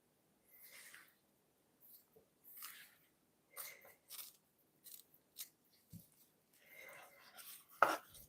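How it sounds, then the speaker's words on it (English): Knife trimming a deboned piece of raw fish, short separate squishy cuts and crunchy snips at close range, quiet with gaps between strokes and one sharper knock near the end, no talking. "I already removed the bone, but still I have to trim."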